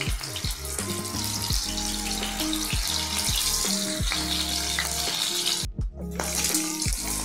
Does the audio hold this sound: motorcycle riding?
no